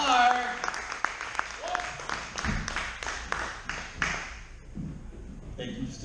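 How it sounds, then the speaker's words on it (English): Open-mic comedy crowd claps for comedian Clark at a late-night show, a dense burst of hand claps with a few sharper individual hits, thinning toward the end, with voices mixed in. "I'm gonna need y'all to give it a one big round of applause for Clark!"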